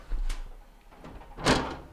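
Whirlpool stove oven door with a broken handle being swung slowly shut on its hinges, giving two soft knocking bumps about a second apart, close by in a quiet room.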